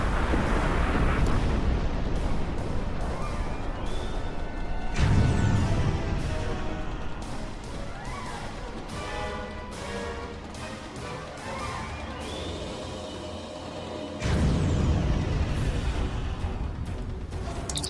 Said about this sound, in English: Camera shake seems to be coming from some phasers or something shooting at the surface.